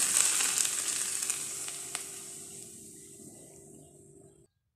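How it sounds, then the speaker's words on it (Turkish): Hot oil sizzling steadily with a bright hiss while making homemade keşkek-style erişte noodles, loud at first and slowly fading before cutting to silence. "Evet kızgın yağımızı sesi duyuyorsunuz."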